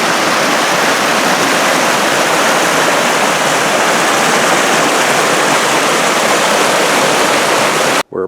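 Ollalie Creek rushes beside a bridge on the trail toward Talapus Lake, a loud, steady roar of whitewater that fills the scene without a break until it cuts off abruptly at the very end.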